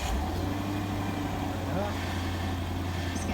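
A Ford car's engine turns over and settles into a steady low idle close by, with a person talking over the running motor.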